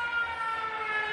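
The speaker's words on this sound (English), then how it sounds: "And I don't know why you've got a siren on." A steady, continuous siren tone holds at an even pitch throughout, loud and close with no talking over it.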